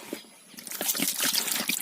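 Water is poured onto fish being cleaned in a home kitchen, starting as a light trickle and swelling into a steady splashing stream that runs for about a second and a half, close and fairly loud.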